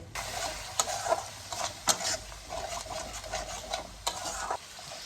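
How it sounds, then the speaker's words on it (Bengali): Spice paste with sugar being stir-fried in oil, with a crackling sizzle broken by frequent scraping strokes of a spatula against the pan, uneven and close. "চিনি দিয়ে ভালো করে কষাবো যতক্ষণ না পর্যন্ত মশলাটা দিয়ে তেল বেরোচ্ছে"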